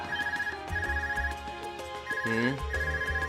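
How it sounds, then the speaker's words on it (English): An Arcus communicator in The Legend of Heroes: Trails of Cold Steel rings with repeated bright electronic trills in two bursts, over a soft musical background. "Is that your Arcus ringing?"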